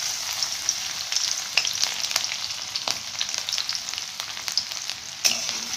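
Chopped garlic and green chilies fry in hot oil, giving a steady crackling sizzle with scattered sharp pops throughout, close by and with no voices.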